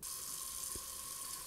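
Warm water runs from a tap into a kitchen sink, a steady, even hiss that stays constant and moderately quiet throughout, with no voices.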